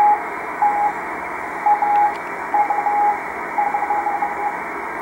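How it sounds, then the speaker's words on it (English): Amateur radio satellite HO-68 (HOPE, XW1) beacon received on a radio: a steady tone keyed on and off in repeated short bursts over a constant bed of hiss. "So HOPE, or XW1, as it's sometimes known, which is a amateur radio satellite orbiting Earth."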